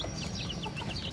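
Ducklings peeping in quick, high, repeated chirps against a steady background hiss, close and fairly loud, with no voices.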